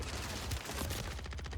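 Steady automatic gunfire in a Warzone match, a close, even rattle of quick shots running through the whole moment with no speech over it.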